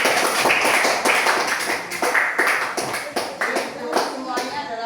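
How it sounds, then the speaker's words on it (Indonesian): A classroom of students clapping hands together, a dense run of sharp, uneven claps close by, loud and continuous for several seconds, with some voices mixed in. "Oke, tepuk tangan."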